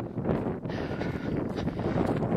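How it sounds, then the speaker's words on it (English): Strong gusting wind buffeting the microphone at an outdoor long-range shooting range, a steady loud rumbling roar that swells and dips without pause. "The wind is gusting pretty good."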